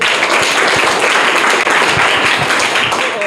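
Loud, dense applause fills a school competition room as students are cheered, a steady wash of clapping from a large group of children throughout with a faint voice or two underneath.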